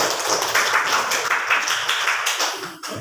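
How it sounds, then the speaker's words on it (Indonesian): Seminar audience of teachers applauding together, a dense crowd of hand claps sustained for about three seconds, steady and fairly loud before tapering at the end. "Tepuk tangan."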